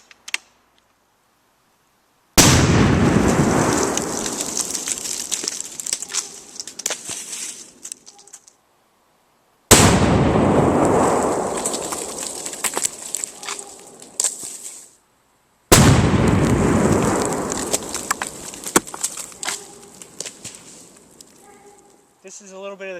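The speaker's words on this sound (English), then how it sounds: "see if we can launch this up in the air with some tannerite. Here we are with the Glock tannerite test." Tannerite detonated beneath a heavily used Glock 23 pistol resting on a cinder block and plywood outdoors: three separate loud, sharp blasts, each ringing out and decaying over several seconds, with a faint click between them.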